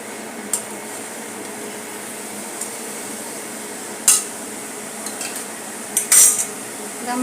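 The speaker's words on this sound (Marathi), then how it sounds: "मसाला अंड्यांना चांगला कोट होईल असे करून घेऊया" Metal spoon stirring eggs into onion masala in a cooking pot for anda kadhi, with a few sharp clinks against the pot sides at intervals over a low kitchen hum, no talking.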